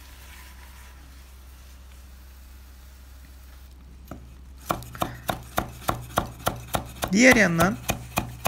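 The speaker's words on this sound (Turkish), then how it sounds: "ayrı bir karıştırma kabıma ince ince maydanozları doğruyorum" Parsley is finely chopped with a knife on a board in a rapid, even series of close, sharp taps, with a brief spoken phrase near the start.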